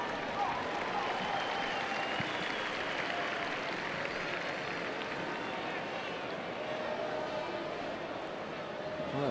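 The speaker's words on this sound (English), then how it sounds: "the crowd are in a very festive mood, aren't they? Enjoying themselves." Festive football stadium crowd at a Spain v Saudi Arabia match, a dense continuous cheer and murmur at steady level throughout, with faint commentary-like voices blended underneath.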